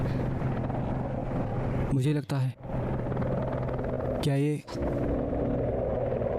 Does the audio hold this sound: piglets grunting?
no